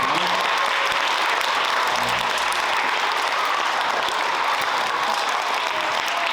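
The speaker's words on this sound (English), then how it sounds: "Another huge round of applause for our Fine Arts Supervisor and the Berlin Music Department for their constant support" Sustained audience applause fills a school band concert hall, steady and dense throughout with no pauses.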